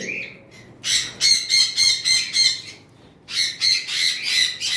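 Pineapple and yellow-sided sun conures squawking in loud, harsh, rapid calls, a run of about seven shrieks followed by a pause and another burst of three or four.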